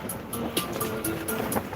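Strong, cool wind blowing outdoors up top, a steady rushing roar buffeting the microphone, with faint rhythmic ticking or flapping in the background.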